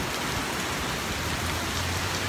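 Steady rain falls on a city street in Washington, D.C. during a thunderstorm, a dense, even hiss of drops on the pavement that continues without a break, with a faint low hum underneath.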